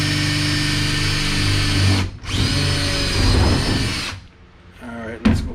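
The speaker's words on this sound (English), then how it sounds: "So let's drill a pilot hole" Power drill boring a pilot hole through the outside wall of a shower trailer, a loud steady whine that briefly dips, winds back up, then cuts off near the end.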